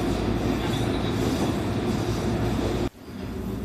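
Kururi Line train departing Kururi station rumbles loudly with steady wheel and motor noise from onboard, dropping abruptly near the end before resuming.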